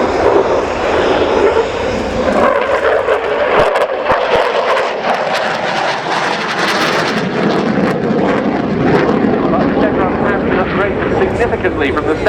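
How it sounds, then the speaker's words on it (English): A Belgian Air Component F-16A fighter jet flies an airshow display at RIAT 2016, its loud continuous engine roar swelling and fading as it passes, while a commentator talks over it throughout. "The oldest of the F-16s this on the programme. An A model as opposed to the Cs from the other three air forces involved today."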